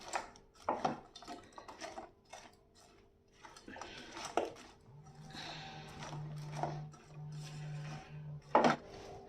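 Bread pieces are stirred in a pan for bread pulao, giving irregular scraping and clinking of a utensil against metal, with soft bursts of activity and quiet gaps between strokes.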